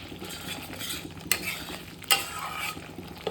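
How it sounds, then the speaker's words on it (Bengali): Masala for rajma sautéing on a low flame, a soft steady sizzle broken by a few scraping stirs and metal spatula knocks against the pan, close and fairly quiet. "আমি আরও 5 মিনিট মতো আমি কষিয়ে নেব, একদম লো ফ্লেমে রেখে।"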